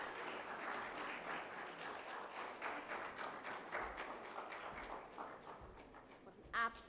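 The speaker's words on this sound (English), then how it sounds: "A round of applause, please, ladies and gentlemen" An audience at a women achievers awards ceremony applauds after a spiritual speaker's address, a steady wash of many hands clapping at moderate volume that thins toward the end.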